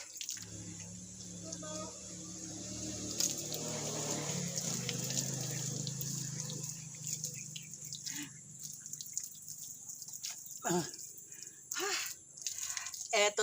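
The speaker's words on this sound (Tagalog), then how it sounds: "ilagay na natin ang tubig sa balde" Mountain-sourced water runs steadily into a bucket beside a kitchen sink, a continuous splashing flow with occasional drips and clatter, heard close and fairly loud, while people talk.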